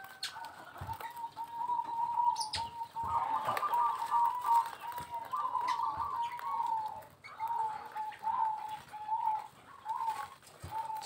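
Perkutut zebra doves coo steadily, a soft repeated warbling trill at close range with a few short pauses, over faint background noise and occasional thumps.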